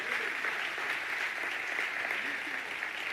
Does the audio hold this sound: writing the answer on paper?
no